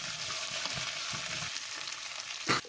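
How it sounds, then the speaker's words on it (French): Squash and potatoes sauté in a pan with a steady, close sizzle and a few soft stirring scrapes, ending in a brief louder rustle. "Là maintenant on va faire tout revenir."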